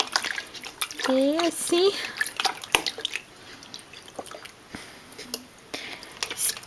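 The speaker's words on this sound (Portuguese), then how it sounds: "Que banhozinho mais gostoso." Water splashes and drips while a baby is bathed in a bucket, with irregular close sloshes and droplets under a woman's affectionate speech and a baby's brief vocal sounds.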